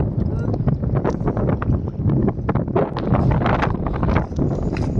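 Strong wind buffets the microphone with steady rumbling gusts on a fishing boat at Shipole harbour, while a person talks underneath.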